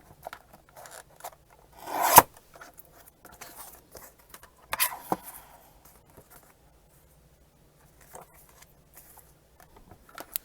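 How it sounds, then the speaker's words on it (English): Blade or file shaving material off the bottom edge of a paper craft tag, a quiet close scraping rasp with a louder stroke burst and a second shorter one, then faint scattered scratches. "Sometimes just shaving stuff off the bottom gives you a tag width."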